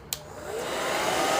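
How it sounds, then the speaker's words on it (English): A hair dryer switched on to speed the drying of a watercolor painting: a click, then a steady loud whooshing roar with a rising whine as the motor spins up, close and continuous with no talking. "I'm going to hit it with my hairdryer really quick, just to kind of speed this along."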